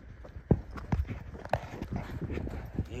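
A tired horse walks on open ground, its hooves clopping close by in an uneven, plodding rhythm.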